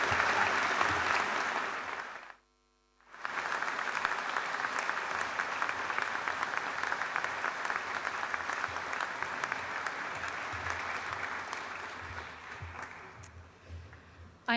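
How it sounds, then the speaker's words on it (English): A graduation audience gives the 2022 graduating class a sustained round of applause. Dense, steady clapping fills the room, breaks off briefly, then returns and slowly fades. "we'd like to welcome a warm round of applause for our 2022 graduating class"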